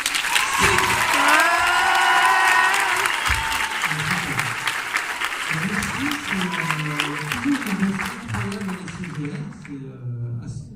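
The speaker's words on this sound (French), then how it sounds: "vous pouvez l'applaudir" Audience at a film premiere applauding and cheering for a guest, loud clapping with whoops and shouts, then people talking as the applause fades.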